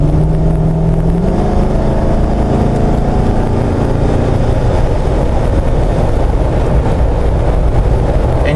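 Inside a Jeep JK with a Chevy LS engine accelerating on cruise resume, a continuous loud roar of engine and road noise rises in pitch, heavy with wind rumble throughout.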